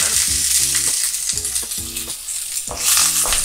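Cut green chillies and curry leaves fry in hot oil for a chutney, a loud, steady sizzle broken by repeated low thumps and stirring bursts, with no voice.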